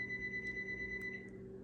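A steady electronic alarm-like tone with faint high beeps sounds under a low hum in an indoor room, quiet and continuous with no talking.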